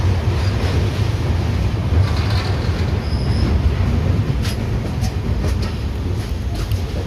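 Golkonda Express train pulling away on the branch line toward Vijayawada, a steady low rumble of rolling wagons with faint wheel squeals and clanks, sustained and fairly close throughout.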